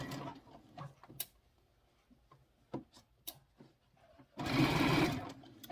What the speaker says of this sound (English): So then another 1/4 inch seam for that. And back stitch your beginning.